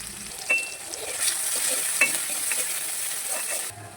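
Onions frying in oil for a drumstick and tomato curry, a steady hiss of sizzling close by with occasional soft clinks and scrapes of a spoon in the pan.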